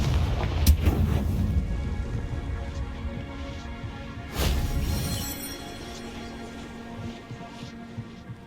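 A Confringo fire spell explodes in the video game Hogwarts Legacy: two booming blasts, one at the start and a stronger one midway, each fading into a low rumble over steady game ambience.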